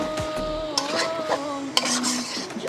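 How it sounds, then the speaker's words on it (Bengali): Chicken being stirred with spices in a pan for a ghee roast, with scraping and clinking of the utensil against the pan over a soft sizzle, close and continuous. "এই মশলার সাথে ভালোভাবে চিকেনটা মিশিয়ে দিচ্ছি"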